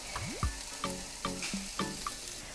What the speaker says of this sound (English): Just fry it all in together.